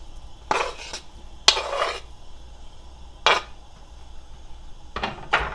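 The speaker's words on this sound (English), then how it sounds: "Toss my bacon in this skillet." Sliced bacon tossed into a skillet on a stovetop, giving several loud bursts of sizzling and frying hiss separated by short quiet gaps, with faint clinks of utensils and cookware between them.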